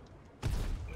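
A World of Tanks tank gun fires once: a sudden, loud, heavy boom hits midway through the clip after quiet ambience, then a dense low rumble holds to the end.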